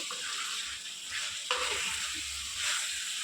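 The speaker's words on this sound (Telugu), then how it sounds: "చికెన్ వేసుకొని చికెన్ కొంచెం ఫ్రై మగ్గనిద్దాము ఈ మసాలాలు బాగా పడతాయి చికెన్కి" Chicken sizzles and fries steadily in masala in a kadai, a dense hiss with occasional stirring scrapes, close and continuous with no voices.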